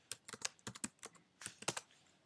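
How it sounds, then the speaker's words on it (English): Quick bursts of computer keyboard typing, a dozen or so sharp keystrokes in uneven clusters with short pauses, close and fairly quiet, no voices. "type in Flickr"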